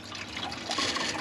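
Coolant draining from a 2006 Chrysler 300 SRT8 into a drip pan, a continuous hissing, splashing trickle of liquid that stays steady and fairly quiet throughout, with no talk.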